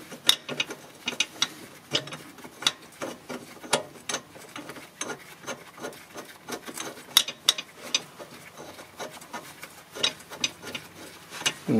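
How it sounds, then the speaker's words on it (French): Small screws are fitted and tightened on the axle support of a 2014 Mitsubishi Outlander PHEV, with close, irregular ratchet clicks and clattering metal handling in short bursts and no talk. "je vais commencer par mettre les petites vis, ça sera plus simple"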